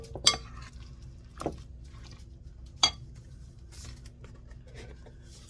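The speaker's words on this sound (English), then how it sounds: "I'm going to mix in the ricotta" Ricotta is mixed in a bowl with a utensil, a few sharp clinks against the bowl spaced apart over soft, faint squishing and stirring.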